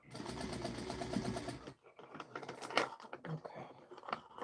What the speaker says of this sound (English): Let me stitch that one more time because I want to make sure that when I get ready to sew this ear into the head, that it captures all the fabric.